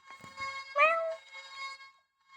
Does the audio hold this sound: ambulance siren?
no